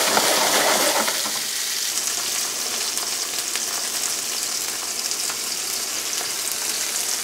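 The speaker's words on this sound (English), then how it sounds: "So we're gonna do a nice little hard sear." Pork tenderloin hard-searing in a hot pan, a bright, dense sizzle that flares loudest at the start and then holds steady and close.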